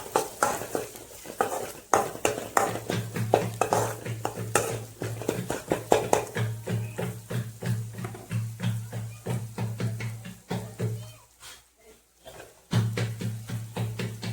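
Vegetable curry of bitter gourd being stirred in a pan with turmeric and salt, a steady run of scraping spoon strokes against the metal over a low frying sizzle, close and fairly loud, with a short pause near the end.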